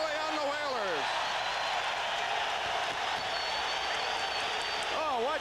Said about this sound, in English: listen to the applause for Moe